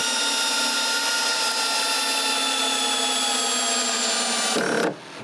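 A power tool, such as a drill or impact driver, drives screws to fix pieces of a new firewood shed in place. There is one long, steady whining run that cuts off abruptly near the end, with no speech.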